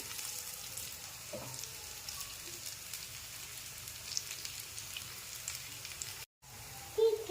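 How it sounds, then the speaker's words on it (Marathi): Grated raw potato vadas fry crisp in oil on a full flame. A faint, steady, rain-like sizzle runs throughout with a brief break near the end, and no one speaks. "कंटिन्यू आपल्याला गॅस हा फुल ठेवायचा आहे म्हणजे चांगले क्रिस्पी असे भाजले जातात हे वड्या."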